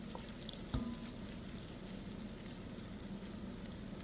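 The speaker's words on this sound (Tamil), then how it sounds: "பத்து பச்சை மிளகாய் எடுத்து கிரி வச்சுக்கிறேன் அதையும் போட்டு நல்லா வதக்குவோம்" Green chillies sautéing in a hot pan, a steady soft sizzle with one sharp clink of a utensil early on, close and alone without voices.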